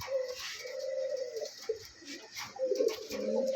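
Domestic pigeons at a farm coo in low, throaty rolling phrases, several calls close by with brief pauses between them and no voices.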